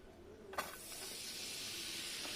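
Beetroot dropping into a spoonful of hot ghee: a sudden onset of steady, fairly loud hissing sizzle that starts about half a second in and continues unbroken to the end, with no talking.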